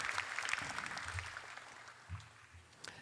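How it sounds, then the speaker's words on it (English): An audience at a school Class Night ceremony applauding the robotics team and its captain: a steady, faint wash of many hands clapping in a hall, with no voices over it. "please, another round of applause for team captain of the robotics team and the robotics team themselves"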